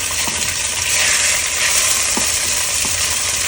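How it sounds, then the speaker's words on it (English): Tofu browns in hot oil in a pot, a loud, even, hissing sizzle that fills the scene with a few faint clicks from a utensil and no speech. "So we're going to start off with our tofu. And we're just going to brown them as best as we can."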